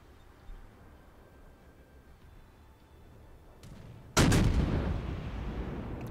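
A naval gun on a warship in World of Warships fires once with a sudden loud boom, followed by a long rumbling roar; a quieter thump comes earlier against a low background.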